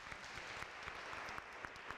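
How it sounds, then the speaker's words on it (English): Faint, distant applause from a congregation at a Sunday Catholic Mass, with individual claps softly distinct within the steady patter. "But I do want to applaud you, Jessica."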